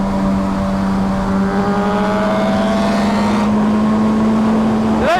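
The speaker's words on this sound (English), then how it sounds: "he has a new exhaust on, so he probably just wanted to hear it" Suzuki GSX-R1000 fitted with a loud SC Project aftermarket exhaust holding a steady, loud, close tone, then snapping into a sharp rising rev at the very end.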